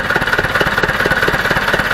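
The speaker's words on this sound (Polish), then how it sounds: "ciągnik można śmiało powiedzieć przywrócony do życia. Nie wiadomo ile stał, co robił, ale pracuje pięknie." An old Ursus C-360 tractor, brought back to life after standing unused for an unknown time, runs close by with a loud, fast, even diesel knock that chugs steadily and stays alone without any talk.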